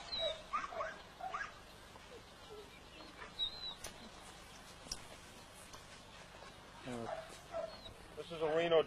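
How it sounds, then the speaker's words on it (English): A kennel dog named Kane yipping, barking and whimpering in short bursts, near and moderately loud, with someone talking to it and birds faintly in the background. "This is a dog called Kane."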